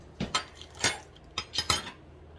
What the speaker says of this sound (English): I think I want to use one of these spoons.